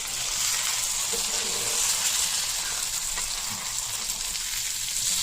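Masala-coated fish fries in a pan with a steady, close sizzle and a few soft scraping knocks as the pieces are flipped, with no talking.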